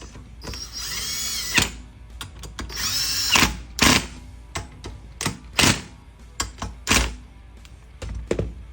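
An impact wrench tightens bolts on the water pump of a 2007 Sierra with a 4.8 L engine, giving two loud rattling bursts followed by scattered metallic clanks and thunks from the tools.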